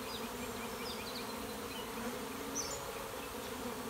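A honeybee swarm fanning at a hive entrance during a late-season swarm gives a dense, steady buzzing drone. It is constant and close, with individual bees flitting past now and then.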